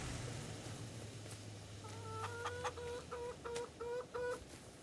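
Chickens cluck in a farming video game, a run of short, rhythmic clucks and squawks close by after a low hum fades, fairly quiet overall.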